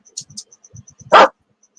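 A single loud, sharp dog bark bursts out near the end, preceded by soft faint sounds and a faint repeating high tone, with no talking.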